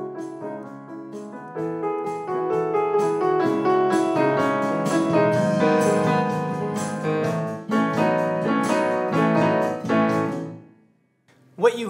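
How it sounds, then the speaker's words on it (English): Piano playing with accompaniment for about ten seconds, fairly loud and full throughout, the level rising slightly then holding steady before cutting off, with a brief sound at the very end. "What you heard was the piano reached a threshold at which its volume leveled off."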